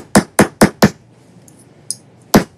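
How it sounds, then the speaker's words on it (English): A ball peen chasing hammer flattening a metal bottle cap, four quick sharp metallic strikes close up, a pause with faint light taps, then one more hard blow. "Ball peen chasing hammer."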